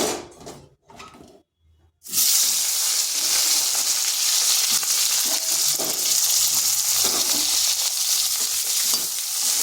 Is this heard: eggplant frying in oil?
yes